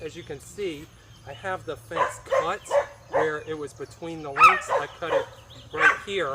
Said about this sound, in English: Sorry about the dogs, but obviously we got dogs